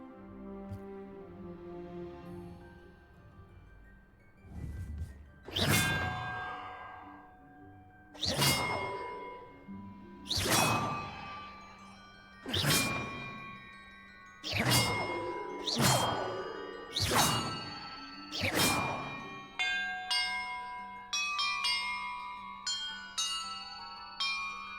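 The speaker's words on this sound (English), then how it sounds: "Perhaps the map contains clues about the order I'm supposed to ring the bells in." Bells in Hogwarts Legacy rung one after another in a set order: about ten bright, ringing strikes at steady intervals, each decaying with a shimmering tail, ending in a quick cascade of chimes.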